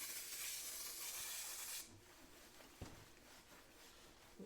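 Brake cleaner sprays onto a grimy buzz box welder in a steady hissing burst that lasts nearly two seconds, then cuts off, leaving faint rubbing and handling noises.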